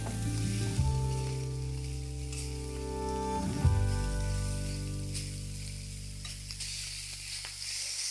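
Food sizzling in a very hot, heavy casserole pot used for stews and braises, a loud, steady frying hiss that swells sharply twice as more food hits the pan, close up with no talking.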